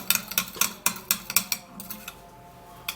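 A spoon clinks and scrapes against a bowl in quick, rhythmic strokes while a baking soda mixture is stirred, fairly close and clear, with the strokes slowing and softening toward the end.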